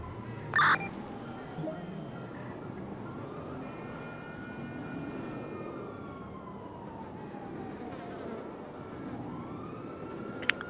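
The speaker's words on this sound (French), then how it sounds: "J'entends des sirènes." A police siren in a video game wails steadily in the background, its pitch slowly rising and falling, with brief clicks and blips over a low ambient rumble.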